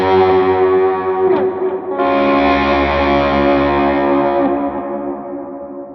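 Electric guitar chords swelled in from silence with vibrato to imitate a slide guitar, heavily effected with echo and chorus, two sustained swells that ring out and fade, loud and alone.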